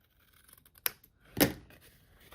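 Scissors snipping through paper to cut a gift tag for a Christmas folio album, two crisp close cuts, a light snip followed by a louder, fuller one, in an otherwise quiet room.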